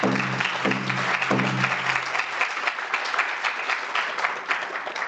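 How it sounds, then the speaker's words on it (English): An audience at a tribal State of the Band address claps in sustained, dense applause, loud and steady throughout, with a faint voice briefly audible at the start. "Let's give them a round of applause,"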